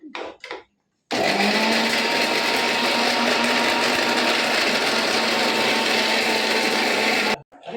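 A sustained, loud mechanical whirr of a coconut being grated by machine in a Konkan kitchen, running steadily for several seconds after a brief voice and a moment of silence.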